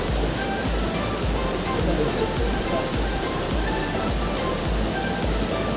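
River water rushes steadily in a dense, continuous roar, loud and near, with no pauses.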